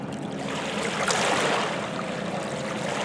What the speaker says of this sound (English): the lovely Hudson River here, lapping against the shore.